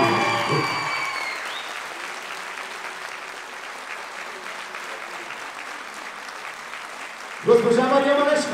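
Audience applause at an anniversary folk ensemble concert, sustained clapping from a large crowd that tapers off, with a voice speaking at the start and again at the end.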